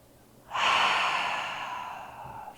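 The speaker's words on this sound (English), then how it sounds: "Big breath out." A big breath is pushed out through the mouth during a mom and baby yoga class. It starts suddenly, is loud and close, and fades slowly over about two seconds.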